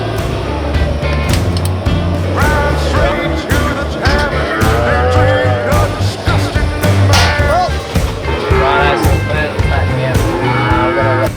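Cattle on a farm paddock moo repeatedly in long, overlapping calls, some near and loud, over a continuous low rumble.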